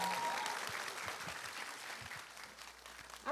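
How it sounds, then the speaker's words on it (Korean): Concert audience at a Korean talk-concert clapping to welcome a singer's stage, a fairly faint, distant spread of applause that thins out toward the end. "계속해서 박수로 청하겠습니다"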